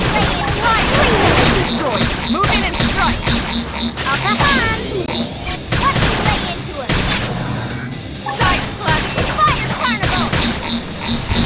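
Sci-fi combat in Xenoblade Chronicles X: Definitive Edition, with repeated bursts of weapon fire, impacts and clashing effects in an uneven rhythm, loud and busy under game voices and music.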